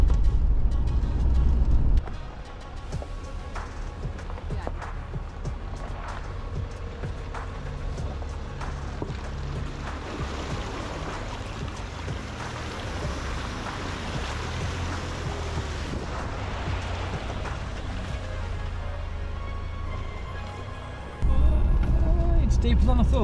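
A Land Rover Discovery driving off-road through deep water on Salisbury Plain, with a heavy low rumble and sloshing wash continuing for most of the stretch, wind buffeting the microphone and voices talking at the start and end.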